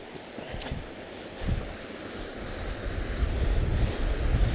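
Waterfall below Bleat Tarn, reached by a steep path: a steady broadband rush of falling water that swells slightly louder toward the end, with wind buffeting the microphone throughout.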